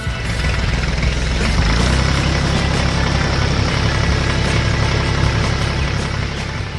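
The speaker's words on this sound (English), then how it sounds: "here comes the yellow dump truck to finish the job" A yellow dump truck's engine runs as a dense, continuous, loud diesel drone with a deep low rumble, steady throughout and alone without talk.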